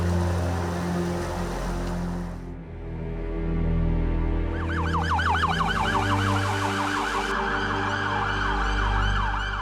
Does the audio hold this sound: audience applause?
no